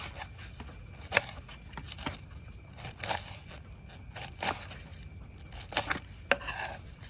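Washed leafy greens being chopped on a board, a string of irregular close knife knocks over several seconds with no talk.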